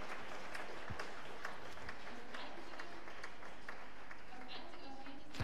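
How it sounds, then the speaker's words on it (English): Fairly faint applause from a conference audience in Leipzig welcoming a speaker onto the stage, scattered distinct claps forming a continuous patter. "I'd like you to welcome him with a round of applause"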